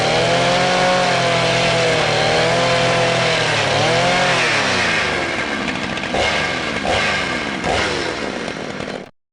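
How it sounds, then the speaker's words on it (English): An angle grinder fitted with a flap wheel smooths a fabricated metal bracket, running loud and steady with a high whine that dips and recovers under load, then a few sharp bursts near the end before it cuts off. "I'm going to go ahead and throw that flapper wheel on there. Get that cleaned up a little bit better, smoothed up"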